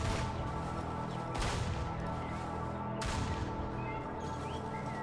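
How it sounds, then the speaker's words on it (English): Distant gunfire in the zombie survival video game HumanitZ: a few faint, sharp cracks stand out above a constant noisy background, with no talking. "There's obviously gunfire elsewhere."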